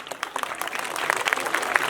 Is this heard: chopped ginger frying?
no